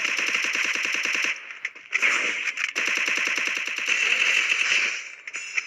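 Rapid automatic bursts of gunfire from a 17 SP gun in a shooter game, loud and close, with brief gaps between the volleys and a final scattered shot or two.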